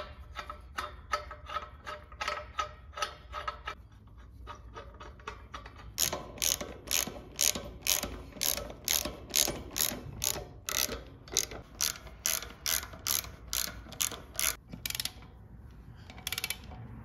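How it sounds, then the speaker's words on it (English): A ratchet wrench tightens down a wheel mounted on a gas can carrier, its clicking pawl running in quick bursts of close, crisp ticks that quicken into a steadier, louder series of rhythmic strokes. "Now that the wheel is mounted, we're gonna tighten it down."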